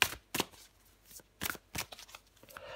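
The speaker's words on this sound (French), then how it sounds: "Allez, je prends encore une carte pour vous." A tarot card drawn from a deck gives a few crisp papery swipes and flicks of cards sliding against one another, close and dry, with short pauses between them and no voice.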